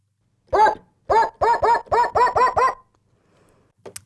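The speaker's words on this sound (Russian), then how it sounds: "здесь есть тембр звука лая собаки." A synthesized dog bark sound from a Medeli MK1 keyboard plays in a quick series of about eight identical, evenly spaced barks, clean and loud against silence.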